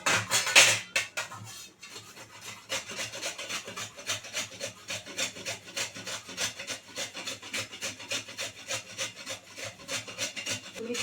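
Vegetables being grated by hand on a metal grater for a Maharashtrian stuffed bitter gourd filling, with fast, even rasping strokes repeating steadily and close, with no talk.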